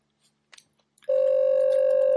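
A telephone call tone begins abruptly after a few faint clicks, a loud steady sustained tone that continues to the end.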